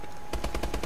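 Rapid automatic gunfire from a weapon in Call of Duty: Advanced Warfare, a quick burst of about eight evenly spaced loud shots that begins after a brief quiet lead-in.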